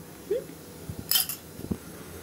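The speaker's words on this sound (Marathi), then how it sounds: "गॅस लावूया, गॅसवरती आपण पॅन ठेवूया" A metal pan set down on a gas stove in a home kitchen while cooking South-Indian chicken, a few faint clinks and knocks of cookware, quiet and close, with no talking.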